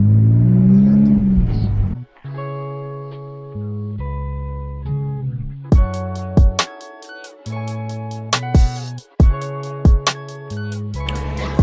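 A BMW E46 M3 engine drones while driving, with sustained tonal hums that step up and down in pitch through gear changes and sharp clicking transients, loud and close.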